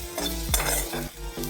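Soda bhaji with spices stir-fried in an iron wok, a steady close sizzle broken by several rhythmic scraping strokes of a spatula against the metal, with no voices.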